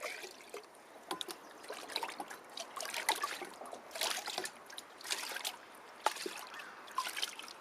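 Liquid potassium feed, diluted, trickles and splashes into a batch of compost tea, a faint uneven dribbling with scattered small splashes continuing throughout.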